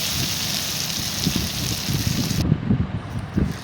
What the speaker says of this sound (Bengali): আলুটাও লাল লাল করে একটু ভেজে নামিয়ে নেব